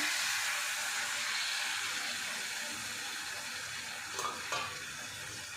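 Ground coconut paste goes into a frying bitter gourd curry (pavakkai kuzhambu), raising a broad, steady sizzling hiss in the pan, with a couple of short stirring scrapes near the end.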